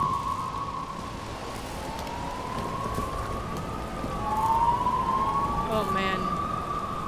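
Police car sirens wailing in the video game Nobody Wants to Die, two overlapping tones sweeping up and down at moderate distance over a steady rain-like hiss, growing slightly louder near the end.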